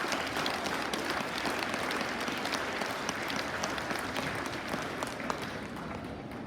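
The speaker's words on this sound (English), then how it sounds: "so we can give ourselves a round of applause for that." Audience applause fills a school Veterans Day program, a dense, steady wash of many hands clapping at even loudness throughout, with no voices standing out.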